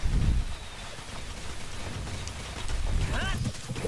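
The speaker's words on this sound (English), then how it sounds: "Let it rain." Steady rain hiss fills a scene in the video game MapleStory 2, with low rumbling thunder swelling at the start and again near the end, plus faint game effects over it.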